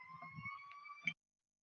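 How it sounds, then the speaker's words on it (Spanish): A fire truck siren wails steadily at moderate distance amid traffic, a sustained tone with low rumbling vehicle noise underneath, ending abruptly. "está pasando un camión de bomberos"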